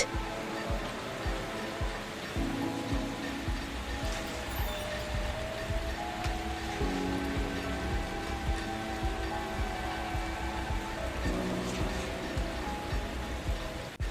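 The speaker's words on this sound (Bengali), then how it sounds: "হঠাৎই শুরু হলো মেঘ ভাঙা বৃষ্টি বজ্রপাত আর ঝড়ের শব্দে" A heavy cloudburst downpour, a cartoon rain sound effect, roars as a steady, dense wash of drops that holds constant for the whole stretch, with a low rumbling layer underneath and no speech.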